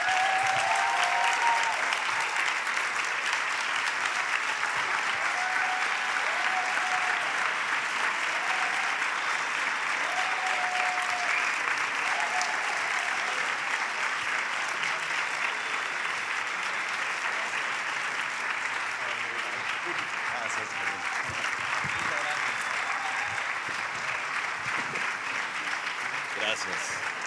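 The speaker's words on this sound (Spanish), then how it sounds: "recibamos con un fuerte aplauso al Master of Cinema de Atlántida Mallorca Film Festival" A festival audience applauds Gael García Bernal as he is welcomed on stage at the Atlàntida Mallorca Film Festival, sustained dense clapping that carries on steadily for nearly half a minute, with faint voices mixed in beneath.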